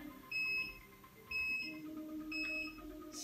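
A workout interval timer beeps three times, each a short, faint electronic tone about a second apart, in a quiet room with no talk.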